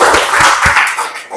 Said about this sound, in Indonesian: Oke, tepuk tangan, diaplus.